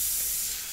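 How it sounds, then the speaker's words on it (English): An airbrush loaded with India ink gives a brief test spray before painting on paper: a steady, close, breathy hiss that fades slightly at the end. "we're going to definitely test this out, test out our spray before we go on our artwork here"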